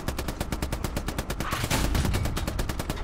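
Gunfire in the World War II video game Hell Let Loose: a rapid, steady burst of loud automatic shots that keeps going throughout, with a heavier blast partway through.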